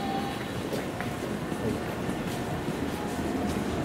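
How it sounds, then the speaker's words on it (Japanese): Train pulling out of Shin-Imamiya station during the weekday evening rush: a steady, dense rumble of rolling stock and platform noise, with no clear distinct events. "列車が発車いたします。"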